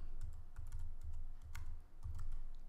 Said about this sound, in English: I type in microphone